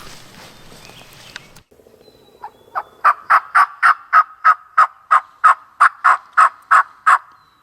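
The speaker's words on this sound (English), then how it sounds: "that distant gobble that gets your heart pumping" A wild turkey gobbles repeatedly in the distance, a rapid run of rattling bursts following a short lower call, set against quiet open surroundings.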